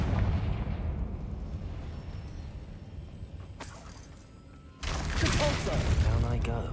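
Fire spell explosions go off in the Hogwarts Legacy video game, with a rumbling blast decaying over several seconds followed by another sharp burst and crackling debris, loud and close.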